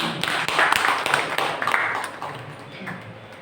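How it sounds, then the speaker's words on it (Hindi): An audience claps for a respected elder sister at a spiritual gathering: scattered, fairly close hand claps with uneven rhythm over about three seconds, fading slightly toward the end. "सभी एक बार दीदी के लिए ताली बजाएं।"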